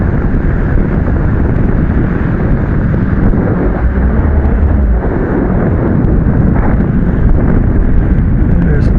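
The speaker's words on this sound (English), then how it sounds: "So I think the wind has picked up just a tiny bit." Wind roars steadily across the microphone in flight on an SW11 paraglider wing, a loud constant rumbling buffet that fills the whole stretch without pause.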